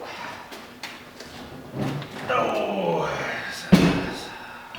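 A heavy door from a 1993 Jeep Cherokee XJ is handled, with a loud knock and thud near the end after quieter scraping and shuffling, and a voice briefly heard.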